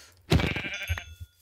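A Minecraft sheep gives a single short, wavering bleat, loud and close, with no other sound around it.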